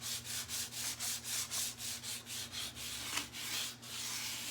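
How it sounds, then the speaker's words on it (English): Hand sanding with 220 grit sandpaper on a salt-washed wooden hall tree: rhythmic back-and-forth rubbing strokes, about ten in a row, close and soft over a low background hum. "I used just a 220 grit sandpaper just to pull back some of that salt wash that I put underneath here."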